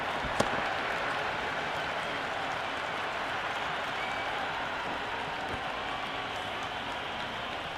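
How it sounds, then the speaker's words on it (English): A cricket crowd at an IPL match between CSK and MI cheers and applauds a boundary four. Dense, steady clapping and roar fill the whole stretch evenly, loud and unbroken, with no voice standing out. "The crowd love that one."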